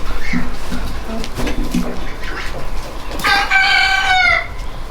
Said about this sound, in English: crowing roosters on our place